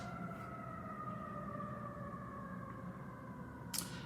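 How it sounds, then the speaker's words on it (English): A distant siren wails steadily with a faint drifting tone over low background rumble, fairly quiet throughout. "Sorry, guys, we got sirens."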